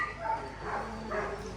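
A sled dog puppy on an Alaska dog-sledding excursion gives a few short, close yips and barks amid steady background noise.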